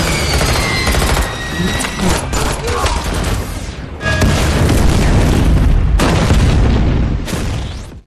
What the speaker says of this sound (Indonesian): aksi baku tembak terjadi cukup sengit antara pasukan Vanguard dan juga Omar